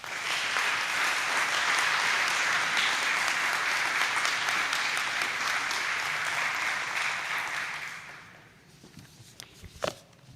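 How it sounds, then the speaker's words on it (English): Sustained applause from a senior event's audience at a Livingston County gathering, loud and steady for about eight seconds before fading, followed by quiet room noise with a few faint footsteps and a small knock. "a big round of applause"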